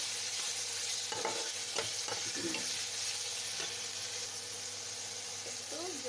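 Chicken frying with spice paste in a pan gives a steady, broad sizzle throughout, with a few scraping stirs and light clatter near the start, moderately quiet and continuous.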